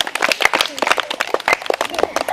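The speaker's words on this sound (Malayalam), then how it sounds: "ക്ലാപ്പ് ചെയ്ത് എല്ലാരും." Schoolchildren at a Kerala primary school quiz show clap together after a correct answer, a dense burst of many hands with voices mixed in throughout.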